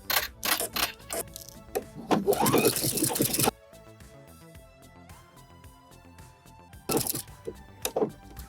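Sewing machine stitching two fabric layers close to the edge while making high-cut panties, fast rapid-fire needle bursts in two runs separated by a quieter pause, close and loud.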